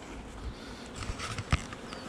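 Honeybees buzzing around a hive, a steady insect hum with a few louder passes, close by and fairly quiet, no voices.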